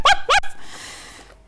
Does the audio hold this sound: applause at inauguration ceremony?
no